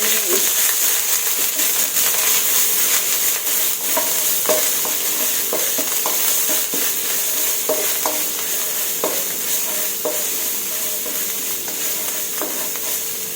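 Red curry paste being stir-fried in a pan, a steady hissing sizzle with regular clinks and scrapes of a spatula stirring, loud and close.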